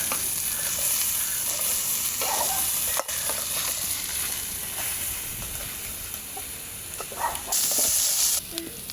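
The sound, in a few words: sautéing crab curry ingredients in a pan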